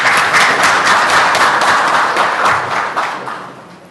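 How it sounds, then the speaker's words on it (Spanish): Sustained applause from an audience welcoming the next speaker, Dr. Omar Toledo Toribio, at a labor law conference on fundamental rights; dense steady clapping that gradually tapers off toward the end. "para quien pedimos también un fuerte voto de aplausos"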